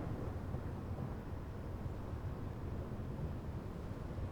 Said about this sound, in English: Oh, heavy storm coming in.